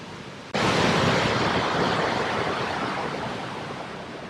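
Roar of Niagara Falls, a massive body of falling water, bursting in loud after half a second of quieter rumble and then holding as a dense, steady broadband wash that eases slightly toward the end.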